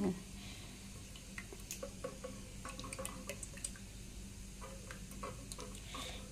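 Raw egg being mixed by hand with the yolk in a home kitchen while making Maggi noodles, giving faint, wet squishing and dripping sounds that stay quiet and close, with a voice speaking softly at times.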